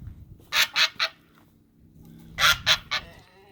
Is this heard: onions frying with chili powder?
no